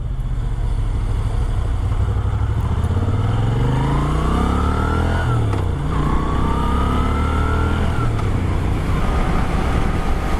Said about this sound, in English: So cruising on the highway is not too bad on this bike.